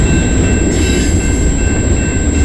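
A freight train hauled by foreign locomotives rolls past at close range on a rail line in London, Ontario, a loud steady rumble of wheels and cars with a faint high ringing tone over it.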